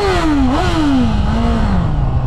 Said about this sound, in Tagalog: Yung sigaw ng bike kapag pumapalo na sa mid RPM,